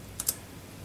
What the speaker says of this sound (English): If I type in exit